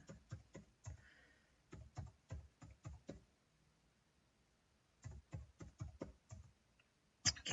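Dates being typed on a computer keyboard into accounting software, in quick bursts of close, crisp key taps separated by short pauses, with no voices.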